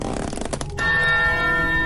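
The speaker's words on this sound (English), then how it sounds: "The resounding gong that these bells make echo through the trees of this swamp, and it's just so loud." Monastery belfry bells ring out in a video game swamp, a loud resonant peal with a long sustained ringing tail after a burst of clanging strikes.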